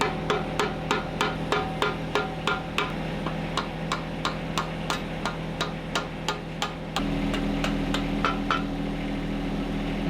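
A John Deere 1025r compact tractor engine idles with a steady low hum and regular rapid ticking, then rises to a louder, fuller drone partway through.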